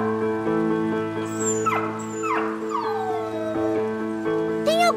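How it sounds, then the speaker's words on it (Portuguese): A little fox in the Peixonauta cartoon whimpers in a few rising and falling cries over steady background music, with a final short yelping whine near the end. "Ah, é uma raposinha."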